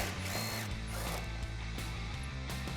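A ratchet loosens two 13mm support bracket bolts near the rear cradle of a 2015-2019 Mustang GT, producing a steady, close, rapid clicking that runs nonstop through the whole stretch.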